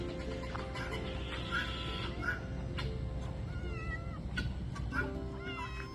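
A farm turkey calls outdoors among other farmyard birds, a series of short high calls and warbling notes over constant background noise, with no talking.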